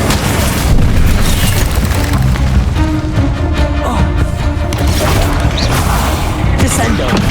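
A fire spell cast in the video game Hogwarts Legacy: a loud, dense whooshing roar of flame with booming bursts, sustained for several seconds amid other game effects, with talk over it.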